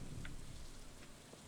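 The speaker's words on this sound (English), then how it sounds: "The rain doesn't stop me from getting a job done." Steady rain in the Stardew Valley video game, a soft, even hiss of falling drops with a faint low rumble underneath, continuous and alone for under two seconds.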